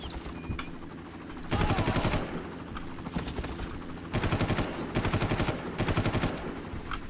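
Bursts of rapid light machine gun fire in the shooter game Far Cry, several long sustained volleys separated by brief pauses, loud and close.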